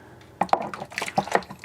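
Liquid is stirred with a plastic spoon during home wine-kit making, producing a few irregular light clinks and wet swishing sounds close by.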